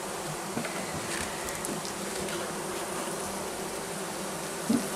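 Steady, dense buzz of a crowd of honeybees inside a hive with ten frames of drawn wax, continuous and close throughout, with a brief louder burst near the end.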